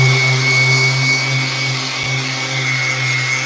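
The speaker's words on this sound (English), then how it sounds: "Vacuum wasn't letting it happen." A vacuum cleaner runs in a skateboard deck workshop, giving a loud, constant motor drone with a steady hum through the whole stretch and a tiny dip partway.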